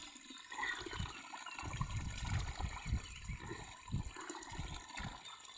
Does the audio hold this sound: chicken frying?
no